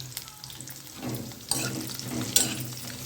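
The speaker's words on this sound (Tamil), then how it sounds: "வெங்காயம் அது வரைக்கும் நல்லா வதக்கி எடுத்துக்கோங்க" Sliced onions and curry leaves sizzle and sauté in a pan for a kurma, with a steady frying hiss and a couple of sharp stirring scrapes against the pan.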